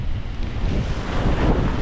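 Sea surf on Adler beach, a pebbly Black Sea shore with waves big enough for surfing, gives a loud continuous roar, partly buffeted by wind on the microphone, with no voices.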